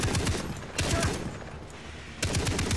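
Rapid bursts of machine gun fire in Far Cry 3 come loud and close, in several clipped volleys separated by brief pauses, with no talking.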